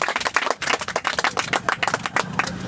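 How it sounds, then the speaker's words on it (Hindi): Children clap for a student in a classroom, a brisk burst of quick, uneven hand claps from a nearby group lasting a few seconds. "वेरी गुड, तालियां बजाओ इनके लिए"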